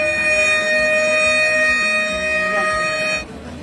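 A ceremonial siren sounds at the opening of a provincial MTQ event at Danau Raja, Rengat, a steady sustained wail with crowd noise beneath, cutting off abruptly near the end.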